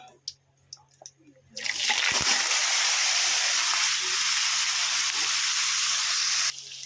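Marinated mutton drops into hot mustard oil with cumin seeds, setting off a loud, sudden sizzle that roars steadily for several seconds after a few light clinks, then cuts back abruptly near the end.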